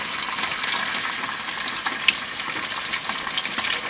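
Egg sizzling and frying in a pan in a van, a steady close crackle with faint stirring and scraping throughout.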